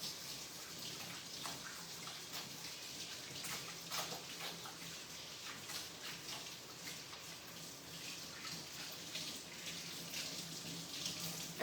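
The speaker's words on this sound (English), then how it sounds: "So let me just rinse my hands." Tap water runs steadily into a kitchen sink while hands are rinsed, a continuous close hiss and splash with small shifts in the flow and no talk.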